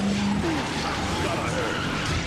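Race cars skid and squeal in the Beetle Adventure Racing video game, with tire chirps and engine noise over a dense, loud mix. A voice talks over the action.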